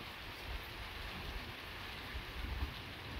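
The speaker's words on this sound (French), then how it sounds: "Là ça rafraîchit un petit peu, cette pluie." Steady rain patters and hisses evenly during a strong nighttime electrical thunderstorm, soft and continuous, with a faint low rumble of wind underneath.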